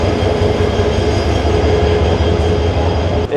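A train engine shunts the Mohanganj Express at Kamalapur railway station in Dhaka, giving a loud, steady rumble with a thin metallic whine on top and a small clank near the end.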